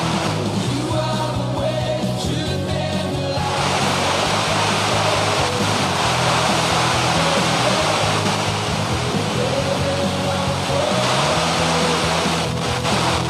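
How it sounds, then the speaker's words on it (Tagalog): Heavy rain pours steadily and loudly on a church building in Kalanganan, a dense, unbroken roar that lasts throughout with no speech above it. "Pasensya sa ulan, mga kapatid, talagang malakas yung ulan na."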